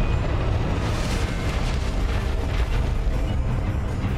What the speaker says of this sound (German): Jetzt lässt er wieder den Boden explodieren.